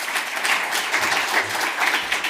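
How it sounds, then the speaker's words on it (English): Brisk audience applause at an anti-scam education panel event, a dense wash of many hands clapping at steady loudness for a couple of seconds, with no talk over it. "Give them a round of applause."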